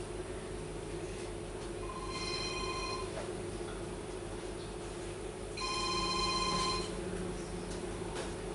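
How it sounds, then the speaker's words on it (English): A telephone bell rings in two long bursts, a few seconds apart, over a steady low background hum. It sounds clear and fairly close. "Oh, do answer the phone."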